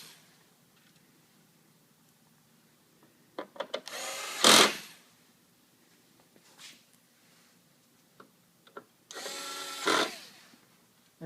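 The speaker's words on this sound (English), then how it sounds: "Put the 4 screws back on." Power tool bursts while four screws are driven back into a printer's gear bypass tray assembly, two longer whirring runs separated by small clicks and handling noises in a quiet room.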